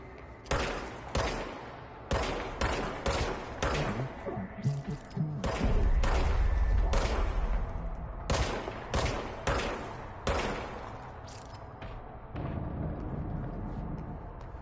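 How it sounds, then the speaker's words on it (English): A gun fired in the video game Control, a series of loud sharp shots in quick bursts with short gaps between them, heavy thumps under some, mostly without talk. "now I have a gun"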